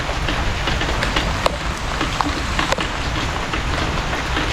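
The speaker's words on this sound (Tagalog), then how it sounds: "Lakas na yung ulan." Heavy rain pours steadily onto a surface close by, a dense unbroken hiss with scattered louder drops and occasional sharp drips, and no talking.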